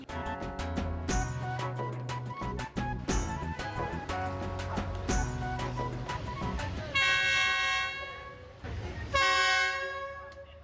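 A train passes very close along a street in Vietnam, its loud rumble and clatter filling the scene while the horn blasts in long sustained tones, then sounds again.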